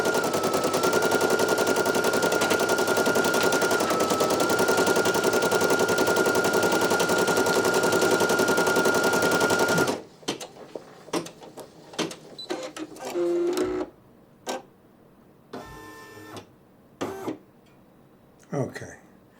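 A Brother PE900 embroidery machine stitching a photo-stitch design runs loud and steady with a fast, even needle rattle for about ten seconds, then stops, leaving scattered clicks and handling noises.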